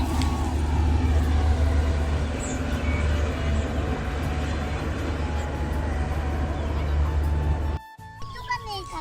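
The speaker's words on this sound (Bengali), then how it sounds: "ট্রেন অনেক আস্তে যাচ্ছে আজকে" A train rumbles steadily at close range, a heavy low drone with faint squeals and clanks, cutting off sharply near the end to quieter clatter.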